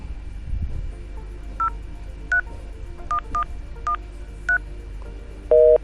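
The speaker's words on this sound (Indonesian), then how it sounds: "Selanjutnya coba kita telepon ke IP phone yang ketiga ini ya" Short touch-tone beeps from an IP phone in Cisco Packet Tracer, seven quick key presses in an uneven rhythm followed by a louder, longer two-tone signal at the end, close and isolated.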